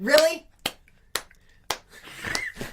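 A voice briefly at the start, then four sharp, isolated hand claps spaced about half a second apart, close and crisp, with a breathy noise between the last two.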